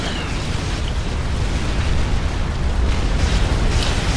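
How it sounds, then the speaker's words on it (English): Artillery shells exploding in the strategy game Supreme Commander, a dense, continuous rumble of low booms and bursts rolling steadily for several seconds with no talking. "Artillery shells moving in."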